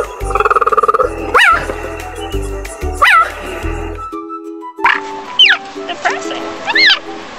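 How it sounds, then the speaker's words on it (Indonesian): A cheetah gives several short, high, bird-like chirps in separate bursts, loud and close, over a looping musical backing track. "Cheetah."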